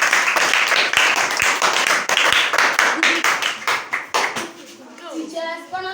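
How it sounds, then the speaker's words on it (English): An audience at a school event claps and applauds for a speaker, with dense rapid hand claps that fade toward the end. Children's voices and other speech sit beneath and after the clapping. "Please, a round of applause."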